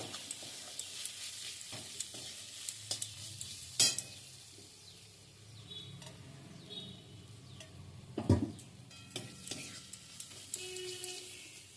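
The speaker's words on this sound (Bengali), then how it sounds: "এবার এগুলোকে আমি এই পেঁয়াজ টমেটো আদা রসুন ভাজার সঙ্গে গুঁড়ো মশলাটা মিশিয়ে খুব ভালো করে আমি কষিয়ে নেব" Ground spices frying with onion, tomato, ginger and garlic for dhaba-style tadka dal, a soft, fairly faint sizzle under occasional sharp utensil taps and scrapes against the pan, with no talking.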